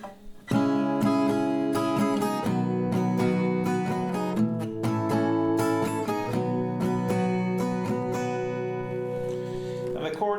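Acoustic guitar strumming the pattern for a song at standard tempo: a steady run of close, rhythmic down-and-up strums ringing full chords for about ten seconds, with no talking.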